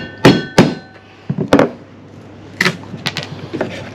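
A sharp chisel cuts a notch in wood, heard as a series of close, loud knocks and thunks in irregular bursts, with clusters of quicker taps in between and quiet gaps.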